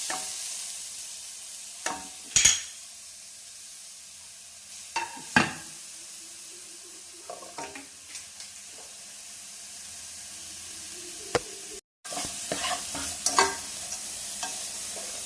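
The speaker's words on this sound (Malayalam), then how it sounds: "ഒരു സ്പൂണ് നെയ്യ് വെച്ചിട്ട് ഇതൊന്ന് ചൂടാക്കി എടുക്കുക." Chopped carrot heats in a spoonful of ghee in a pan, with a low steady sizzle broken by intermittent spatula stirs and scrapes, close-up and with no one talking.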